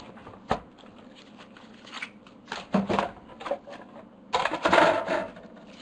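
Die-cut paper tea card being embossed by hand at a craft table, with a few soft crackling presses and rustles of paper and tool, sporadic and close, the densest burst near the end.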